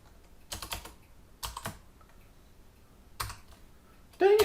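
Bursts of typing on a computer keyboard come in short clusters of quick keystrokes separated by pauses, fairly close and moderate in level, with a brief louder rustle at the end and no talking.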